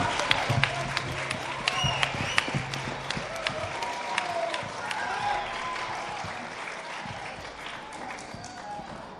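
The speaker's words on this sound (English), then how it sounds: "give everybody a round of applause for giving up their time coming in" Applause from a crowd, steady clapping that continues throughout and slowly fades, with scattered voices mixed in.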